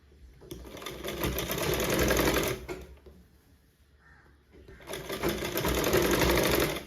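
A sewing machine stitches piping onto a sleeve in two long, steady runs of loud mechanical whirring, separated by a short pause in the middle.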